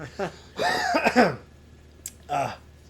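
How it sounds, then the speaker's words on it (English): A couple of short throat-clearing coughs up close, followed by a pause and one more brief cough. "Sorry for coughing."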